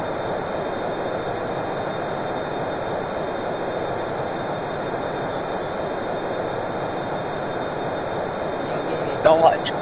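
An F-14 Tomcat jet engine runs at max throttle in a Roblox aircraft carrier game, a loud, constant roar with a high whine that holds steady throughout as voices speak over it.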